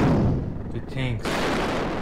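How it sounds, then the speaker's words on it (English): Wartime bombing and artillery fire from World War II, heard as heavy booming blasts and rumble, with a brief break in the middle before the barrage resumes. "The bombing."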